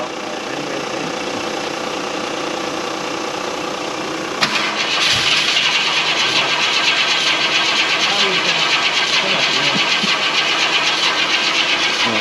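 A 1967 Ford Thunderbird Landau barn find with a bypassed immobiliser, its engine cranking steadily for several seconds and then catching into a loud, rough, continuous run close by, while people talk over it.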